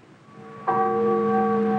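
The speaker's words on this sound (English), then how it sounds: "They hadn't thought of the church bells." A church bell strikes once after a faint lead-in, then its rich, ringing tone holds steady and sustained, loud and close.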